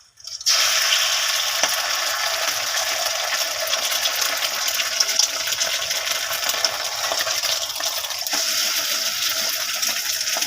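A flipped egg fries in oil in a wok, giving a steady, loud sizzle and crackle that starts abruptly and runs continuously throughout.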